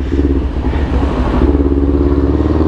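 A Kawasaki Ninja 400 sport motorcycle engine rumbles loudly and close, throbbing with a pulsing rhythm as the bike rides along.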